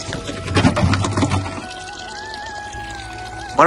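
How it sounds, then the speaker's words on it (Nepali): Water pouring steadily from a natural spring spout by a river at dusk, a close, continuous splashing flow that fades into a quieter trickle with a thin whistle-like tone near the end. "अब यस्तो नेचुरल धारा छ यहाँ"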